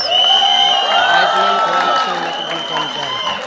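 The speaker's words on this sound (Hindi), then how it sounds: "Round of applause दोस्तों," Live stage audience clapping and cheering with whoops, a loud continuous crowd roar that eases slightly toward the end, with an announcer's voice over it.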